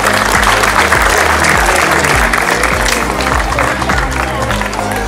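A crowd applauds at a flag-bearing ceremony for athletes heading to the 2017 national games, loud continuous clapping layered over amplified music with a strong low rhythmic beat.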